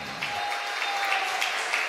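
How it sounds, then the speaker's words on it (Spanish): A church congregation gives brief applause for the Lord during a Spanish-language service, a soft, continuous patter of many hands, fairly faint and distant. "Dele un aplauso al Señor, hermano."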